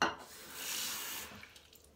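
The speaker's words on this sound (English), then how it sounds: "So I'm gonna put some hot water in there." Hot water pours into a shaving scuttle with a short, soft, hissing splash that rises and then trails off quietly, no voices.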